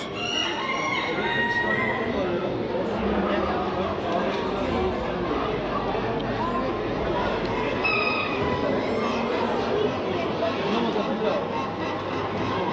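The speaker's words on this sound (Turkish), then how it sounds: "bu da 92 puan almış... bir ...Blue Brahma horozu" At a poultry fair, a Blue Brahma rooster crows nearby, twice, once early and once later, over constant crowd chatter and talking.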